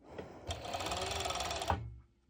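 Sewing machine running a zigzag stitch along the sides of a stretchy pole dance top, one steady rattling burst of about a second and a half, close and alone.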